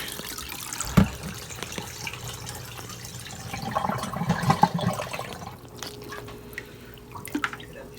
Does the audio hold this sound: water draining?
yes